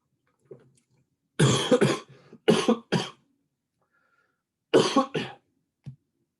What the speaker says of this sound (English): I choked on the water while also needing to cough in general.